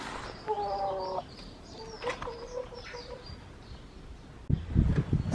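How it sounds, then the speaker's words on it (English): Backyard garden hens cluck in short, rhythmic bursts close by, with several birds overlapping and a brief scuffle of wings or movement near the end. "Just checking on the chickens, and that's what they've given us this morning."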